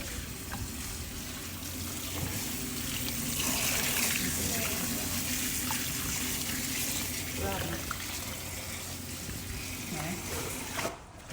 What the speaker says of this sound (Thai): ล้างให้สะอาดแล้วจะเอาไปผัด